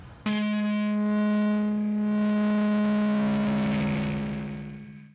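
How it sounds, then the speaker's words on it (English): A guitar plugin's distortion effect swept by a synth mod wheel: one sustained, loud distorted tone with a strong low fundamental and bright harmonics, its upper texture swelling and shifting as the modulation changes, fading slightly at the end. "or you can control a distortion with your mod wheel."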